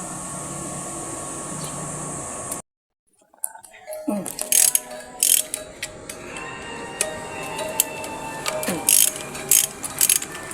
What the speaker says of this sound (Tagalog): Baklasin yung tornilyo.